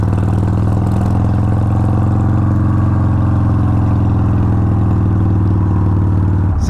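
A Harley-Davidson 883 Hugger motorcycle with an aftermarket exhaust and small air box rumbles steadily on a test ride, its loud low-pitched engine drone holding constant throughout before a brief clunk at the end.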